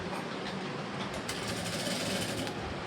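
A sewing machine stitching a blouse seam runs in a continuous, even mechanical whir, close and fairly quiet, with no talk.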